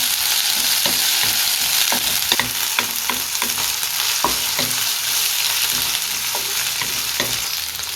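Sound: ginger garlic paste sautéing in oil for beef chukka

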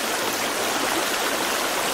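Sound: waterfall in The Forest video game

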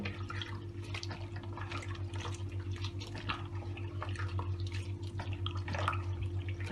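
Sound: lemon peels squeezed, juice dripping

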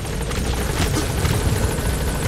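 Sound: helicopter arriving in the video game Metal Gear Solid 5

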